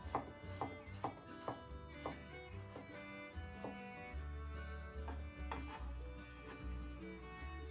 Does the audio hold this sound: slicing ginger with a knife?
yes